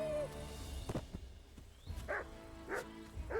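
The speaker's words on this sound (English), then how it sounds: "Dog." A dog lets out three short barks spaced evenly over a couple of seconds, moderately loud, over low background noise.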